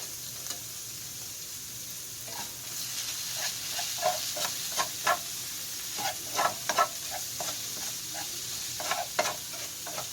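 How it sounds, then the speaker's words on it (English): Tofu tossed with taco seasoning in a pan with extra virgin olive oil gives a soft, steady sizzle broken by repeated scraping stirs of a utensil, close and fairly quiet. "Alright, and then we're going to mix it up."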